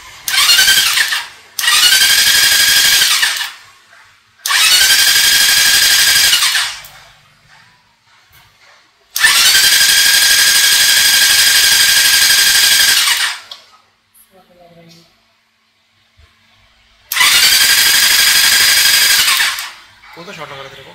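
Benelli 600i motorcycle engine cranked repeatedly: five loud, harmonic starter whines of about one to three seconds each, separated by silent gaps, with faint rustling between attempts.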